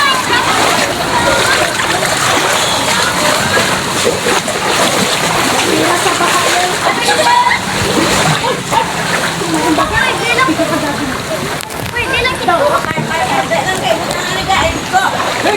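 Floodwater splashes and sloshes steadily through a flooded residential compound in Barangay Singcang, Bacolod City, a continuous wet churning with people talking over it throughout.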